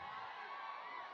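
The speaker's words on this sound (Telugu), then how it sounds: "అహో, ఈ అరుపులన్నీ ఎస్కేఎన్ గారికి." Fans at a film trailer launch event shout and cheer as one dense, faint, distant roar of many voices, held without break.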